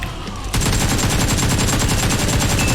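Rapid automatic gunfire in the PUBG Mobile battle-royale game on the Livik map, a sustained burst of closely spaced shots starting abruptly after a quiet half-second and running loud and continuous to the end.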